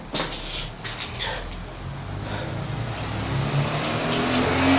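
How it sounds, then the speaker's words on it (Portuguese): Steady stream of many cars passing on a road in Itanhaém, a loud continuous traffic rumble with engine swells and whooshes building toward the end, close by. "É com esse monte de carro passando aí, entendeu? É muito barulho"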